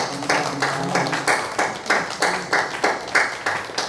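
A church congregation claps in encouragement during a Korean Presbyterian worship service, a steady run of roughly a dozen hand claps at an even rhythm, moderately loud and close, with no talk over it.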